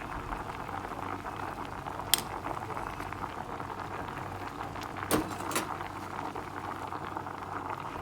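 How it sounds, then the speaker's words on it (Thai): A pot of pickled bamboo shoot and catfish curry bubbles at a steady, soft boil, with a faint continuous simmer and a couple of small clinks. "นี่ก็เริ่มเดือด เนื้อปลาเริ่มสุกแล้วนะคะ"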